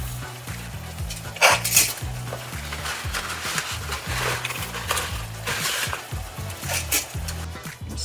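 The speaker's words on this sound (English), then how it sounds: "Now I'm gonna add the spaghetti." Spaghetti goes into a pot of salted boiling water and is stirred, with repeated metallic clanks and scrapes of the utensil against the pot over a low bubbling, kitchen-bright background.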